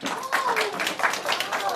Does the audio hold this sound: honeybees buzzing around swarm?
no